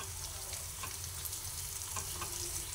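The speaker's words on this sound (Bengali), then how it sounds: "গরম মশলার গুঁড়ো আর আগে যা যা দিলাম সব একসঙ্গে এরপরে আবার ভেজে নিচ্ছি" Garam masala powder and other spices fry in hot oil in a pan, giving a loud, constant sizzle with a few faint stirring scrapes and no voices.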